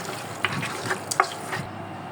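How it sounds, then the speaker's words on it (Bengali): Water added to goat heads in a pressure cooker, a soft splashing pour mixed with light metallic clinks and faint stirring noises, close and fairly quiet. "তারপর এভাবে মধ্যে পানি দিয়ে দিব।"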